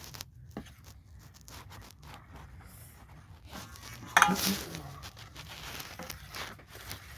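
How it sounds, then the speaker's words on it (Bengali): Pitha batter being mixed in a bowl, soft scraping and stirring rustles with a brief louder clatter midway, fairly quiet and close, no talking. "এই দেখো আর একটু ভালো করে মিশিয়ে নেব"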